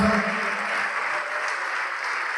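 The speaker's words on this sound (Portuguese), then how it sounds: "Tá vindo mais, vamos aplaudir mais" A church congregation applauds during an altar call, steady dense clapping filling the space, with a brief low voice or tone at the very start before the clapping continues evenly.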